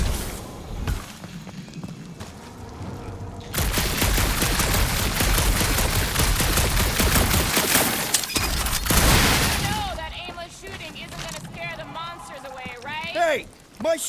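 Dense gunfire and crashing impacts in Guardians of the Galaxy, a loud sustained burst of shooting and breaking, with character voices talking before and after.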